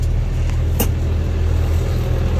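A vehicle drives steadily through heavy, wet, melting snow in warm weather, its engine a continuous low rumble close by, with one brief sharp crunch or slap partway through.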